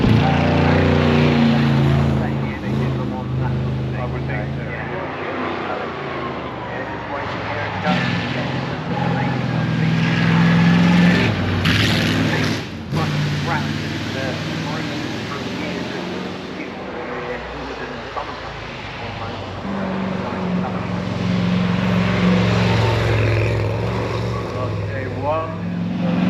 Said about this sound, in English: Slightly further up the hill now, we have some of the Allards coming.